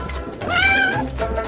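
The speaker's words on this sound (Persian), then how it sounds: "این گربه ناقلا" A cat gives one drawn-out, whiny meow, close and clear, rising and then fading within about a second and a half.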